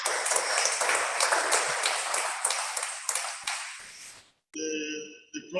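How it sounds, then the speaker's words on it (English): A conference audience at a statistics society lead-paper session in Lagos, 2022, breaks into dense, sustained applause that fades after about four seconds, followed by a bright electronic chime ringing alone. "Can we please give another round of applause to Dr."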